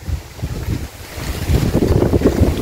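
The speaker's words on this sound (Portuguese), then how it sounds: "Agora mesmo, nesse momento, tá um vento." Strong cold wind blows outdoors on a rural farm, rumbling and buffeting the microphone in uneven gusts that grow louder and more constant partway through, with no voices.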